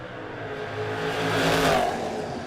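A 1985 Chevrolet Camaro at a drag strip race, a steady loud engine roar that swells and fades as the car passes, with no voices.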